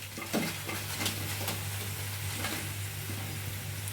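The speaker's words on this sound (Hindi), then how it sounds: "और बचे हुए भिंडी को भी हम इसी तरीके से पहले फ्राई कर लेंगे।" Okra frying in a pan for a crispy fried okra (bhindi) recipe: a continuous soft sizzle with intermittent scraping stirs and utensil taps, plus a low steady hum underneath.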